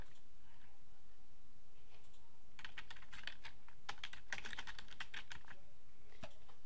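Computer keyboard typing at a desk, quiet and sparse at first, then a dense burst of rapid key clicks, close and clear with no talk over it.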